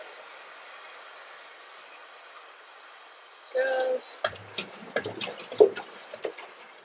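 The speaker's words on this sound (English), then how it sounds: "Just draining that one into my green one." Clean drinking water glugs and splashes as it drains from one upturned jug into a green jug in an off-grid tiny house, starting after a quiet stretch, close and uneven. A brief spoken word comes near the end.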